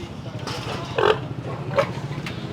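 Pigs of a good breed, about 94 kilos each, give a couple of short grunts close by in a farm pen, with low rumbling background noise between them.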